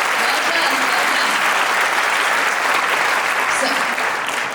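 A large crowd at a Chinese New Year celebration applauds a dance group, loud, thick, sustained clapping with a murmur of voices mixed in, unbroken throughout.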